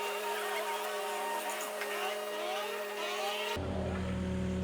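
An ERF truck pulls away outdoors at a drainage dig, a steady engine drone at moderate distance, then a sudden shift to a louder, lower rumble for the last second.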